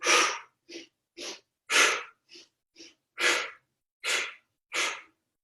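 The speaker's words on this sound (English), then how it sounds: "2 sniff breaths in" A run of sharp, breathy nasal sniffs during a Pilates exercise, nine quick close bursts in uneven pairs and singles with short silences between, heard alone without talk.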